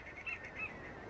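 Faint chirps and calls of shorebirds at the shore, where Eastern Curlews are photographed, rise in a few short bursts over a soft, steady wash of distant background noise.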